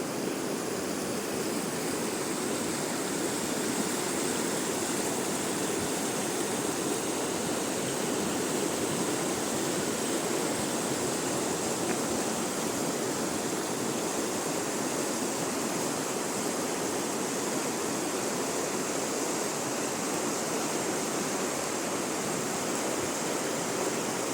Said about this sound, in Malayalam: അതിന് അപ്പുറവും ഇപ്പുറമായിട്ട് വെള്ളം ഒഴുകുന്നുണ്ട്